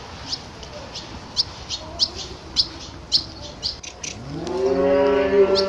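A young heifer on a farm lets out a loud, drawn-out moo near the end, after a run of sharp, repeated bird chirps over low outdoor background noise.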